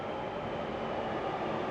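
A new-style Barcelona metro train pulls into a station with a steady, broad rumble and rail roar, continuous and fairly loud over the short stretch, no voices.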